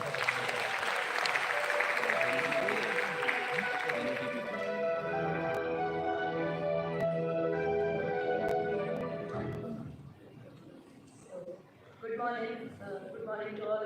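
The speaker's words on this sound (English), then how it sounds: "A huge round of applause for Padmaja ma'am" An audience applauds for Padmaja at a banking event, steady clapping mixed with music or tones for several seconds before fading, then quiet speech near the end.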